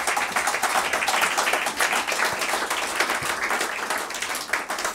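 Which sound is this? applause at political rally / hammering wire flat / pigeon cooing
applause at political rally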